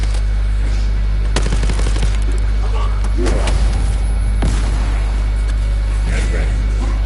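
Gunfire in the shooter The First Descendant, sharp shots and short bursts cracking over a constant low rumble and game noise, while a voice talks in between.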